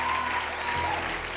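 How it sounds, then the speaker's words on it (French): A church congregation claps in steady, dense applause for Jesus during a French worship service, filling the room evenly with a faint tonal hum underneath. "Acclame Jésus le Christ"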